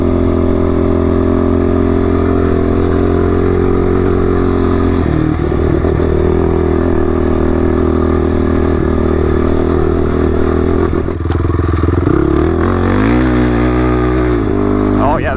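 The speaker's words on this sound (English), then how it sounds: "This engine picks up so much better." A Honda dirt bike engine roars loud and close on a hot desert ride, holding a steady drone before revving up and down in surges near the end.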